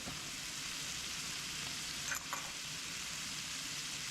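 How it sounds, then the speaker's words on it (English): Sausage, meat and vegetables charring in a hot pan give off a steady, quiet sizzle and crackle, with a brief stir or scrape near the middle and no talking. "meat and vegetables into the pan. You want to get a good char on this before you introduce anything else."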